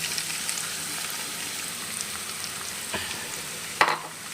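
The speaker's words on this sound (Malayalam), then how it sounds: "പൊരിച്ച എണ്ണയിലേക്ക് നമുക്ക് ആ മുറിച്ച് വെച്ച ചെറിയുള്ളിയെല്ലാം ഇട്ടിട്ടൊന്ന് വാട്ടി കൊടുക്കാം" Small onions and crushed Kashmiri chilli sautéing in hot oil make a steady close sizzle and fry hiss, with occasional stirring clicks and one sharp clink near the end.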